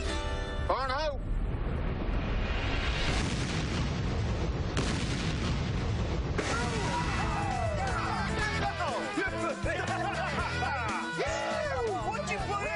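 A box is blown up outdoors in Tennessee, with a loud, sustained roar of blast and rumbling debris filling the whole stretch while voices mix in.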